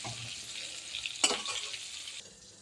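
A pan of frying food with salt and turmeric being stirred: a soft, steady sizzle with a short scraping stir in the middle, close and quiet.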